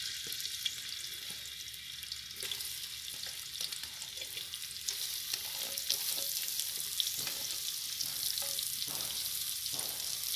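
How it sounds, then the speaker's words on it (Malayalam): Sliced onions fry in hot oil in a pan for a Kerala-style chicken curry, a soft, continuous sizzle with scattered crackles and occasional stirring scrapes, heard close and without talk. "മൂന്ന് സവാള അരിഞ്ഞ് അതിലേക്ക് ഇടുക."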